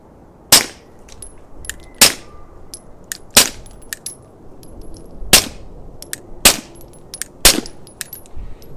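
Suppressed 9mm pistol shots from a SIG P365 with threaded barrel and OSS suppressor firing 147-grain subsonic rounds on an outdoor range: seven sharp, fairly loud cracks at irregular intervals of about one second, with quiet between.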